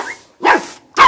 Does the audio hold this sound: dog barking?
yes